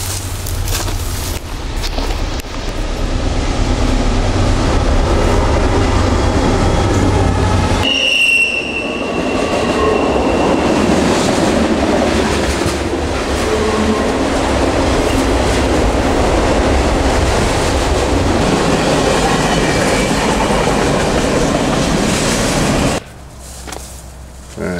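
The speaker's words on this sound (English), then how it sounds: "Train." A train rolls past on the rails, loud and close, with a continuous rumble, rattling wagons and a brief wheel squeal, then cuts off abruptly near the end.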